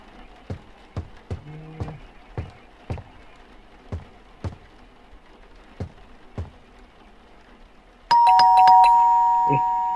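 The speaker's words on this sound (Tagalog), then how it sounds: "Doorbell." A doorbell chimes loudly near the end inside the horror video game The Baby in Yellow, following a series of sharp, evenly spaced knocks or thuds.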